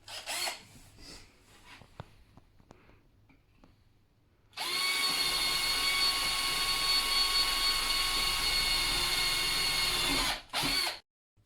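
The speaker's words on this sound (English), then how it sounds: "So once you've drilled your holes" A power drill whirs at a steady high pitch for several seconds, loud and close, drilling holes for a bird feeding platform, after scattered clicks and handling knocks, then briefly cuts out and restarts.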